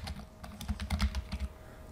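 Quick bursts of typing on a computer keyboard while entering a z-score calculation, a close run of uneven key clicks with no talk over them.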